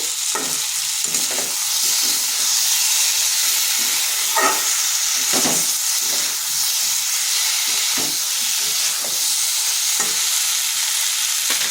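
Potatoes cooking in a pan for a vegetarian pumpkin dish, with a steady loud sizzle and hiss broken by a series of stirring scrapes, and no talk.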